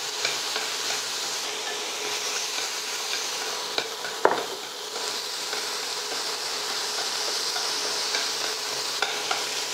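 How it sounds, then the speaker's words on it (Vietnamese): Bok choy stems stir-fried in a pan sizzle loudly and steadily close up, with the hiss of frying broken by one sharp clatter of a utensil against the pan. "đi cho cọng cải ngọt vào xào trước."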